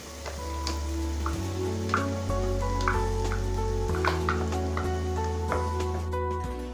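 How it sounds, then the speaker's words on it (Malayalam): Yogurt going into chicken masala in a hot tawa or pan, a steady close sizzle with small crackles and soft stirring clicks throughout, no voices. "നമുക്കിതിലേക്ക് എടുത്തു വെച്ചിട്ടുള്ള തൈര് ചേർത്ത് കൊടുക്കാം."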